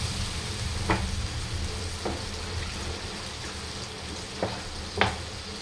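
A spice mixture simmers and sizzles in a pan after water has been poured in, with a steady bubbling hiss and a few faint clinks of stirring.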